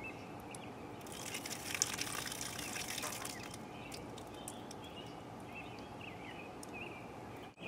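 A cup of dirty water containing chunks of dirt is poured onto a car fender panel treated with NeverWet, producing a steady splashing gush that runs for several seconds, close and fairly quiet.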